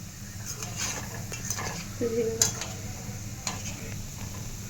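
Gulab jamun sizzle gently in hot frying oil while being stirred, giving a soft constant fizz with light scraping and occasional ticks from the pan, close and fairly quiet.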